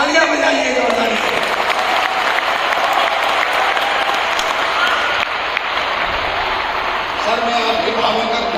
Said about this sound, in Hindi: तो मित्र मिले, तालियां बजाइए जोरदार से।